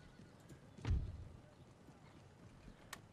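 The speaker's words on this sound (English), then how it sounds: "Oh, look, a clippity clop." Cavalry horses in Napoleon: Total War make faint hoof sounds, with one heavier dull thud standing out amid quiet battlefield ambience and a later sharp tick.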